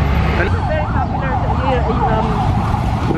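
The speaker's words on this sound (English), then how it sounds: "Is this a police car?" A police car siren on a busy street along Roxas Boulevard in Manila, wailing up and down in a continuous rising and falling cycle over traffic noise, fairly close and loud.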